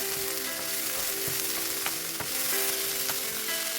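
Chicken fries in a pan with a steady, close sizzle, broken by a few sharp spatula taps and clicks over a faint background hum, and no one speaking.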